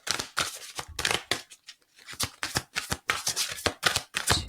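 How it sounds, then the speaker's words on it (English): A tarot card deck being shuffled by hand, a close, crisp run of riffling and flicking bursts in quick rhythmic bunches with a brief pause in the middle, quiet and alone. "Now, Spirit, 3 more shuffles."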